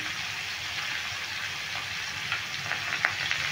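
Close, continuous sizzling of young jackfruit frying in oil, with light crackles and a few stirring scrapes toward the end.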